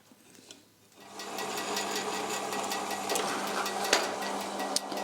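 A power drill bores screw holes in a large wooden barn door, whirring steadily at close range after a quiet start, with light clatter on top.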